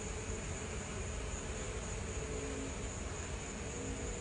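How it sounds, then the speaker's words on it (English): A swarm of honeybees mills around a large hive outdoors, making a steady, dense buzzing drone that holds evenly throughout. "Pretty cool, a lot of bees."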